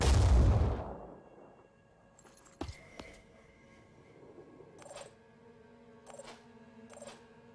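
A cannon firing in the video game Phoenix Point, one loud booming blast at the start that decays away, followed by a few sharp mechanical clicks and thin metallic pings at a lower level, with no talk.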